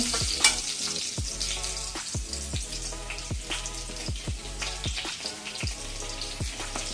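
Asafoetida (hing) dropped into hot oil while making a Maharashtrian clam masala (shimplya masala), crackling and sizzling steadily with repeated sharp pops and spatters up close, no voices.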